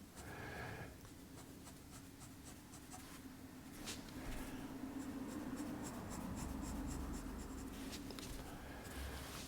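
A pencil scratches across paper while drawing the edges of a cube, soft dry strokes with short repeated ticks, close and quiet with no talk.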